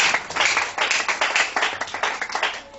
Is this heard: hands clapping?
yes